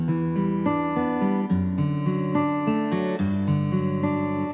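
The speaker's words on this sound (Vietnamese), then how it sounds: "Rồi, tiếp theo đó là tiếng guitar điện." A keyboard playing a steady melody with an electric guitar voice, sustained notes and chords, bright and continuous with no pauses.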